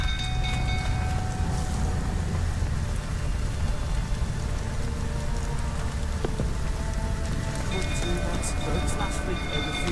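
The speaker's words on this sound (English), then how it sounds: "Looks like rain." Steady rain hisses throughout a scene in The Witcher 3: Wild Hunt, a dense, constant wash with faint tonal game sounds drifting in and out.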